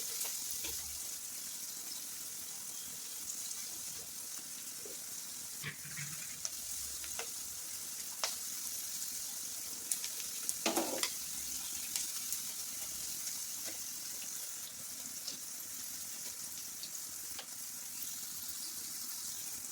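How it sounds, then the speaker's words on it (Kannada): Onions sautéing in a pan with curry leaves for lemon rice, a steady soft sizzle and fry running throughout, with a few faint clinks and stirring scrapes, no talk. "ಒಂದು 30 ಸೆಕೆಂಡ್ ಅಷ್ಟು ಬಾಡಿಸಿ."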